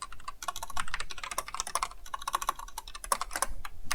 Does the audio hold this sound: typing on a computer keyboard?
yes